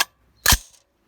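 A single loud, sharp blast from a .50 caliber AR-15 rifle fired at close range, about four feet away, a sudden crack with a short decaying tail following a faint click.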